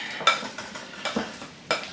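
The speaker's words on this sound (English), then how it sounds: "Oh, we're getting some sizzle now" Fajitas sizzle in a hot pan, with a few sharp bursts of crackle and stirring scrapes rising over a quiet frying hiss.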